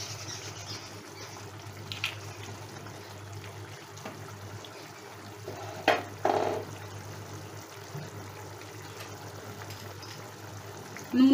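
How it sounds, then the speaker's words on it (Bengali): Fried golda prawns go into a boiling malaikari curry gravy, with a steady low simmer throughout and a couple of brief splashy bursts around the middle. "ঝোলটা ফুটে উঠেছে, এবার আমি এই ভাজা চিংড়িগুলো ছেড়ে দিচ্ছি।"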